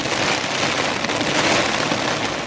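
Heavy rain pouring down in Gir forest, a dense, loud, unbroken roar of drops on surfaces with no pauses.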